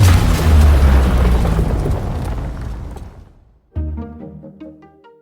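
A movie-trailer boom effect: a huge low explosion rumble that swells and slowly decays into near silence, then a second sharp booming hit with ringing resonant tail, loud and alone.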